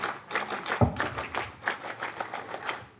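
A school scout group in a disaster-preparedness session doing the scout clap, a quick patterned burst of many hands clapping in rhythm with a louder clap among them, fairly close, with no voices.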